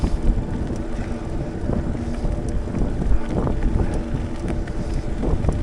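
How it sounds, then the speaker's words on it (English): Wind buffeting a microphone on a bicycle ride out to Scottsville, Michigan from Custer on a sunny day, a steady broadband rumble with gusty swells throughout and no voices. "I got some wind, but the sun's out."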